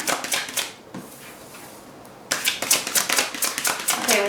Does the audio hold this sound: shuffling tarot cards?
yes